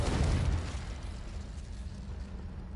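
The Confringo spell goes off in a video game with a loud, deep explosive boom that opens strongly and then tails into a long rumbling wash of debris, with no talk over it.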